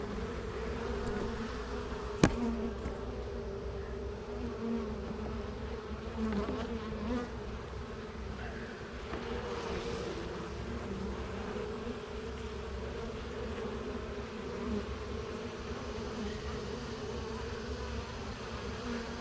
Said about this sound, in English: I'm feeding these bees